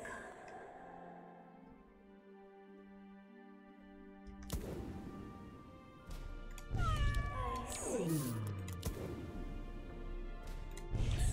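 A cat meows and caterwauls close by, long drawn-out wavering cries with sliding pitch, after a quieter stretch of steady electronic game tones and some background sound.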